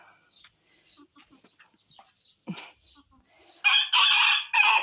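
A rooster crows loudly near the end, after scattered clucks and soft farmyard sounds in a garden setting.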